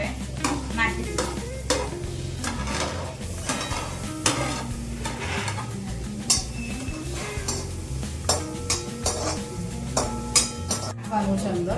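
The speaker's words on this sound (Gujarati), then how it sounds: "હવે આપણે એક કઢાઈની અંદર બટર ઉમેરીશું 2 થી 3 ચમચી અને પછી આ બધી વસ્તુ અંદર સાતરવા માટે નાખી દઈશું." Ingredients sauté in two to three spoonfuls of butter in a kadai, a sizzle under frequent metal-on-metal stirring clinks and scrapes that grow more rhythmic toward the end, close by with no talking.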